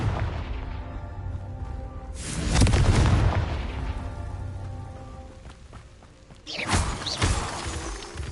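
Confringo spell explosions in Hogwarts Legacy, two loud booming blasts with crackling debris, the first around the middle and a second sharper one near the end, over a continuous game ambience.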